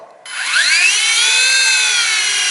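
Model helicopter motor and rotor spinning up under throttle, a rising whine that climbs in pitch over the first second then holds a steady, loud, close buzzing tone with layered harmonics, no voices.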